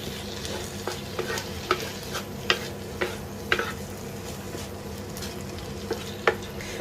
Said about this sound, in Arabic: صافي كنحركو مزيان هادشي حتى كيتشرب مزيان